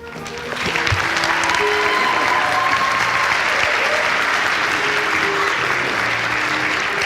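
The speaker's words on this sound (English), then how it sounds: "Please give a nice round of applause for Mr. Matthew Citron" A school event audience gives a full round of applause for the master of ceremonies, starting sharply and holding as steady, loud, dense clapping for several seconds.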